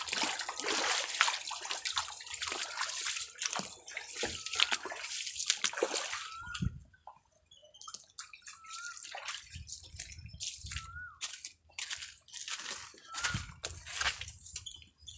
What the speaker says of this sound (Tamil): தண்ணி வருகின்றது.